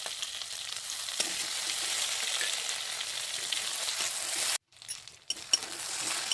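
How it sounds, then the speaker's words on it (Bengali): A paste of cumin, ginger, garlic and green and dried chillies fries in a pan with a loud, steady sizzle that briefly drops out near the end, then resumes. "আদা রসুনটা দিয়ে একটু নাড়ছি দেখুন এটাও ভাজা ভাজা হয়ে এসেছে"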